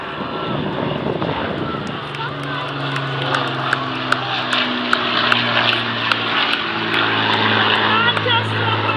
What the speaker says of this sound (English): here is the Lancaster.